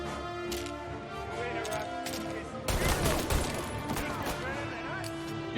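Gunfire breaks out in a shootout in Mafia: Definitive Edition, starting as a sudden loud burst of overlapping shots partway through after a quieter opening, with shouted voices over the fight.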